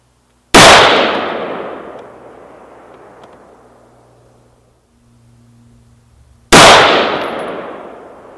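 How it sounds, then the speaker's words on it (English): A Colt Trooper M4 LE6920-R rifle with a Hyperfire EDT trigger fires two loud, sharp shots several seconds apart outdoors, each with a long ringing decay. "We're gonna do two 5-round groups. I'm gonna shoot the top left target and then move over and shoot the top right target."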